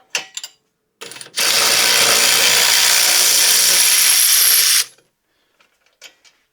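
A power ratchet whirs loudly for about three and a half seconds while loosening rear brake caliper bolts on a 2015 Chevrolet Malibu, framed by brief clicks and clanks of tools before and after.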